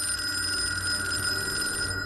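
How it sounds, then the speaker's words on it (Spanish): Hotel room telephone ringing with a continuous, bright electronic trill, steady and fairly loud throughout before cutting off at the very end. "Antes de marcharse, el teléfono de la habitación sonó."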